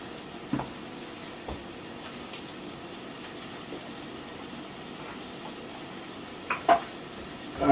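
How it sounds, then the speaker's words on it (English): Quiet, steady sizzling of kale frying in a pan, with a few soft clinks and stirring knocks scattered throughout. "It's starting to do that sizzle."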